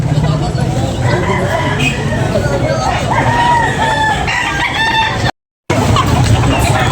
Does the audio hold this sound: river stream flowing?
no